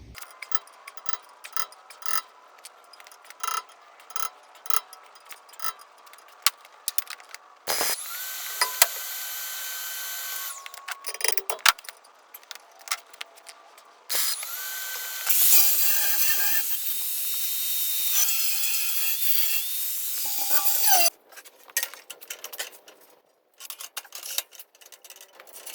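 Metal cut off a welded engine run stand with a power tool, bursts of high whining grinding, the longest near the middle, amid clanks and rattles of handling metal, close up.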